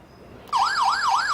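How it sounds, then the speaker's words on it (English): An X10 Wi-Fi smart alarm siren, set off by a door being opened, starts abruptly after a quiet moment and wails loudly and steadily in a rising and falling electronic tone. "So as you see, alarm is triggered, and you receive the push notification immediately."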